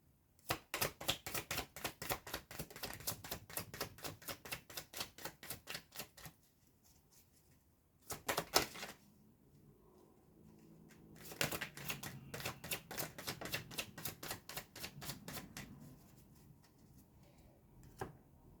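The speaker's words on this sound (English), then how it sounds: "Now I'm going to pull some cards from the Kipper deck." Cards from a Kipper deck being pulled and shuffled, a fast run of crisp flicks and snaps in the opening seconds, then a short burst, then another stretch of quicker, softer card handling.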